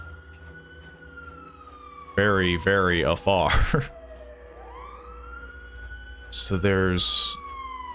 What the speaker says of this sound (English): sirens. I guess they're trying to imply that the kids went missing